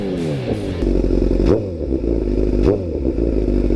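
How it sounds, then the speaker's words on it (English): Pickup truck engine fitted with blue burnt 3-inch quad exhaust tips, revved twice with deep, loud rising roars over a steady rumbling idle, close by. "Give you guys a couple revs here."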